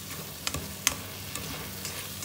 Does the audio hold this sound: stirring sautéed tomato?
yes